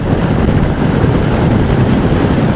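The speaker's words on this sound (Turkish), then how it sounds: "Burada rüzgar vardı, Dün de çok rüzgar vardı." Loud, constant wind buffeting roars across the microphone, a dense rushing noise with no pauses, as if moving at speed outdoors.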